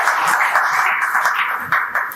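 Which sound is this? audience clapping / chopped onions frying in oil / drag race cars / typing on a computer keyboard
audience clapping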